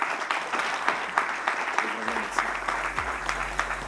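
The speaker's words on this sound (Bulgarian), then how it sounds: "Аплодисменти за тях" Steady applause from an audience at an awards ceremony for Bulgaria's best young athletes, with continuous clapping throughout and no voices over it.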